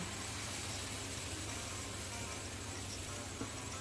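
Palm-fruit malpua batter fries in hot oil, giving a steady, even sizzle that hisses on without pause.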